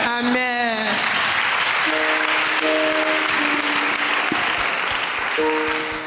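A church congregation claps steadily throughout, a dense wash of hands under organ or keyboard tones and sung or held notes, with a voice briefly at the start.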